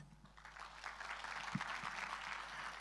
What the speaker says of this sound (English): let us give a big round of applause, big energy to start off with today's event